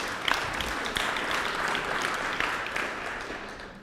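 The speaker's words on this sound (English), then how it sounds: "Give her a round of applause." Audience applause after a community talk, a steady wash of many hands clapping at moderate volume, holding evenly for about four seconds before easing slightly at the end.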